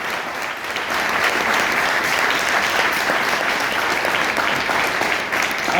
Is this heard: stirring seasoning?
no